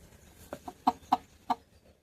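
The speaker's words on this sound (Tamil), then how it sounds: "ஆக்சுவலாக இது முட்டை கோழி முட்டை போட்டுக்கிட்டு இருந்த கோழி" An egg-laying hen, just untied after being kept bound for two days, gives five short, close clucks in an uneven rhythm against a quiet background.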